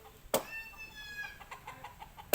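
A rooster clucks and calls in a drawn-out, wavering cry, bracketed by two sharp loud knocks or thumps at the start and end.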